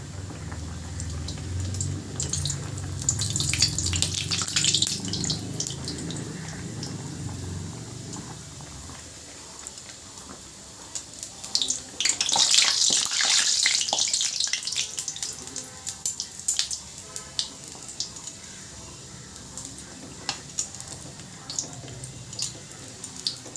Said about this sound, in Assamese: এতিয়া এইটো মই ধুনীয়াকৈ এনেকৈ তেলত দি দিম।